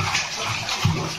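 At home, a child scoops water from a tub with a mug and splashes it, making a close, continuous wash of sloshing and splattering with a heavier splash near the end.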